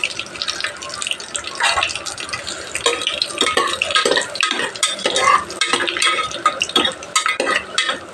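Cinnamon, cloves, fennel and cardamom hit hot oil and ghee together, giving a bright, continuous close crackle with stirring scrapes and light clinks of a utensil on the pan.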